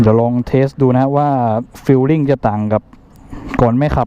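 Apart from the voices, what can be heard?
None of the usual background noises is heard.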